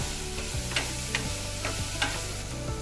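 Asafoetida sautés in a pan with a steady low sizzle, and a spoon scrapes and taps now and then at an uneven pace. The sound is moderately quiet and close, with no voices.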